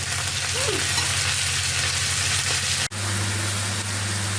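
Cabbage with bell pepper and carrot stewing in a home kitchen pan, a steady close hiss of gentle frying, with a brief click partway through and a low hum underneath.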